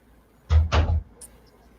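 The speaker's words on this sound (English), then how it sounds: "I'll close the door so you don't have to listen." A door closes nearby with two quick dull thuds, followed by a faint click.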